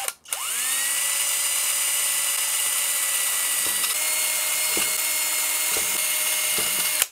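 A power drill boring holes in an electric guitar's cover plate whines up quickly and holds a steady high pitch, with a few brief catches as the bit bites, loud and close with no talk.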